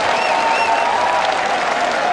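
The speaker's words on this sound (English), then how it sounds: "Deserves a smattering of applause he's got from the crowd who love their cricket" A cricket crowd in Sylhet applauding a batsman's innings, a loud, even wash of distant clapping with a faint tonal whine running through it.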